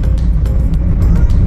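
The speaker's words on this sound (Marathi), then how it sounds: "जंगलात ट्रॅफिक बघा केवढी ती" Road traffic rolling past on a forested road on the way to Alibaug, a loud, close, continuous low engine and tyre rumble with no voices.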